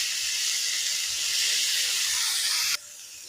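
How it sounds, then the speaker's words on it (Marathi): Paneer pieces shallow frying in oil in a pan for a matar paneer dish, giving a steady loud sizzling hiss that runs evenly and then drops sharply to a quieter sizzle near the end. "थोडे थोडे शॅलो फ्राय करायचे आहेत."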